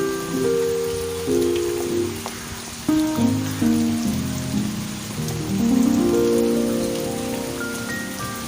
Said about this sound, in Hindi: बारिश 12 बजे के बाद से शुरू है